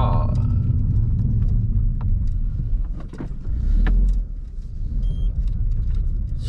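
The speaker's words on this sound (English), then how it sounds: "I'm going to park the car." A car being parked in a home driveway, its engine giving a close, steady low rumble that dips briefly and then swells again throughout.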